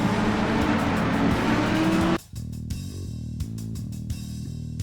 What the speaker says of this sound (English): Next, the 2019 Audi R8 GT3.